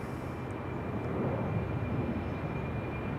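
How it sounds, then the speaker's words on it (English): A KLM airliner, flight 1431 to Lyon, rumbles at Amsterdam Schiphol, a faint, steady low engine drone heard from a distance with no voices. "This is not Air France, but KLM actually. Flight 1431 to Lyon."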